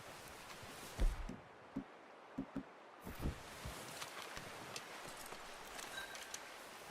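Horse hooves in Red Dead Redemption 2 land as sparse, irregular clops, a few sharp near strikes followed by softer, quicker taps over a quiet outdoor ambience, with no voices.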